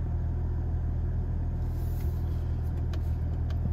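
Cadillac CT5-V engine under paddle-shifted gear changes, a steady deep rumble from inside the car that holds even throughout, with faint ticks and clicks near the end.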